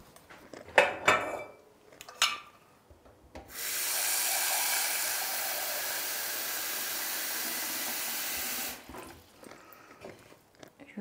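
Home cooking of duck breast with mashed potatoes as a saucepan is handled, clattering and scraping against metal in a few sharp knocks, then a steady loud hiss of sizzling or running water for several seconds before more faint clinks.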